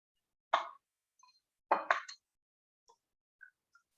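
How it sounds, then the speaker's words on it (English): Two eggs are cracked in a home kitchen, giving two sharp, close cracking taps about a second apart, each followed by faint small drips and clicks in an otherwise quiet room. "So just going to crack 2 eggs."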